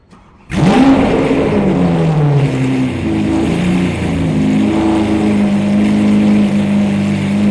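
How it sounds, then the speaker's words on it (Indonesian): After a short quiet moment, a Lamborghini Aventador LP720-4 Roadster engine cranks and fires up with a loud roar, revs briefly, then settles into a steady, throaty rumble. "Itu ada suara engine crankingnya"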